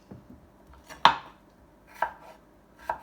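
A knife slices small pieces off ginger or scallion on a cutting board, making three sharp, close chops about a second apart, with soft handling noises between them and no talking.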